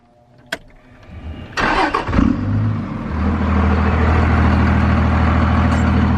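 Second-generation pickup truck with a straight-pipe exhaust and five-speed, a click followed by the starter cranking briefly before the diesel engine catches and settles into a loud, rumbling idle up close.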